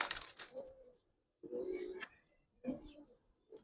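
Giribaz highflyer pigeons coo in short, close bursts with pauses between, and someone talks briefly amid the calls.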